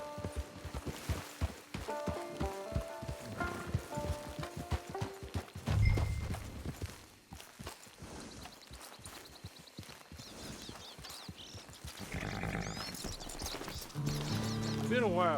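Horse hooves clip-clop at a walking pace in a video game, a steady rhythm of light clopping under game music and spoken dialogue, ending as the horse approaches a camp.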